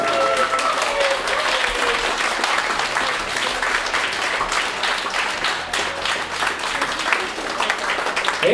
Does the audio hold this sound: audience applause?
yes